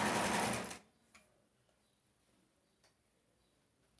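A short loud burst of sewing machine stitching along a skirt hem with a presser foot, stopping abruptly and followed by near silence with a few faint ticks.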